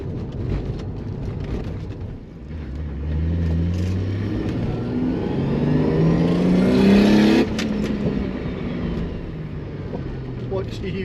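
A Toyota Supra with a manual gearbox and single-turbo engine pulls hard under acceleration, a loud rising engine drone climbing in pitch over several seconds before easing off, heard from inside the car.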